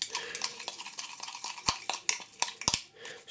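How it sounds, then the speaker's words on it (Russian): Waffle batter being briskly stirred right after vinegar is added, quick close clinks and scrapes of a utensil against a bowl in an uneven rhythm. "Все мы вот это быстро перемешиваем."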